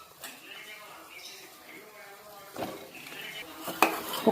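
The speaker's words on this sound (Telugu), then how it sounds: "ఈలోపు కట్ చేసుకున్న వంకాయలు కూడా యాడ్ చేస్తున్నాను" Cut brinjals go into a pan with tomatoes for a village-style curry and are stirred, spoon scrapes and clinks against the pan, faint sizzling beneath, louder knocks toward the end.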